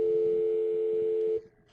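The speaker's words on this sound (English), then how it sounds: "we'll call from Hurley's Mobile into the system and authenticate." A phone line tone heard while a mobile call dials into a Cisco Unified Communications system, one steady electronic tone held for over a second before abruptly stopping into a faint hum.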